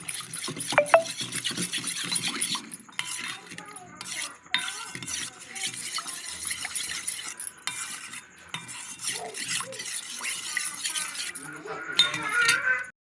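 Milk being stirred into semiya payasam in a large pot, a metal spoon scraping and clinking against the vessel in repeated close strokes, with brief pauses between.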